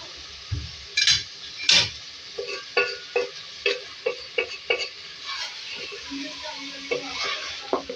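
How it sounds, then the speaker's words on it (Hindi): A spoon stirs chicken with three chopped tomatoes and white cumin seeds in a pan, giving a string of close scraping clinks over a soft, steady sizzle. "ये डाल के इसको मिक्स करेंगे और इसको हम कुक करेंगे थोड़ी सी देर"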